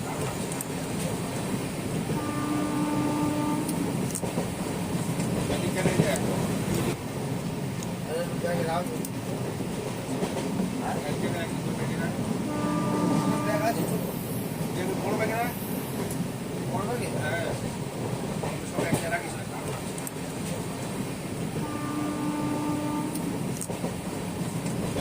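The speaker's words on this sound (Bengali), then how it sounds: "আমাদের ট্রেন প্ল্যাটফর্মে ঢুকছে" A train rolls into the platform at Bhubaneswar station with a continuous rumble of wheels and carriages and repeated horn-like tonal bursts, while voices speak intermittently over the steady noise.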